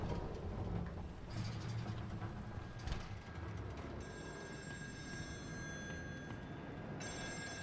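An old-fashioned telephone rings in the horror game Still Wakes the Deep, set aboard an oil rig, its bell ringing steadily at moderate volume over a dark, rumbling industrial ambience.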